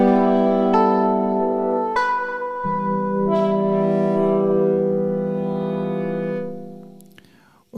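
An Ableton Live Wavetable synth patch, inspired by a composer, plays slow, sustained chords of rich layered tones, with notes entering one after another, swelling and then fading away.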